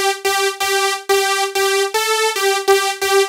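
Bright, buzzy supersaw synth stabs made in Harmor repeat in a steady rhythm, each note brightening then quickly darkening as the filter sweeps down; loud and close, no voices.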